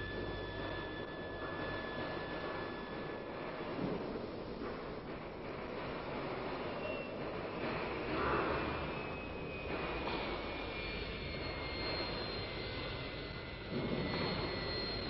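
A Dassault Mirage III jet aircraft roars steadily as it climbs away into the clouds, a broad continuous engine noise with a whining tone that slowly shifts, no voices present.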